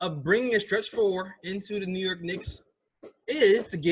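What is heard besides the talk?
No everyday noise stands out behind the speech.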